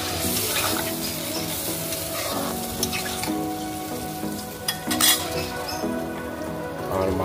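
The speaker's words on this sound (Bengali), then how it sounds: "নুন দেওয়ার পরে এবার আমরা নারকেলের দুধটা অ্যাড করে দিলাম" Coconut milk poured into a pan of simmering spiced masala for a hilsa fish curry with taro stems, giving a steady close sizzle and bubbling with stirring, and a brief louder splash near the end; no talk.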